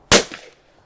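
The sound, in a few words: 410 side-by-side shotgun shot at clay target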